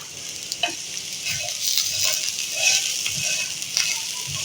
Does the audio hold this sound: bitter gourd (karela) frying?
yes